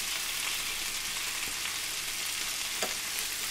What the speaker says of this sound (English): So it's now time to add our last 2 ingredients, which is some tomatoes and a little bit of spring onion.